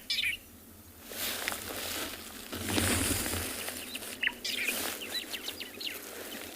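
A bird calling on a morning safari in South Africa: several short, bright chirps and trills scattered over a soft outdoor background, fairly near, with a brief rustle or flutter in the middle.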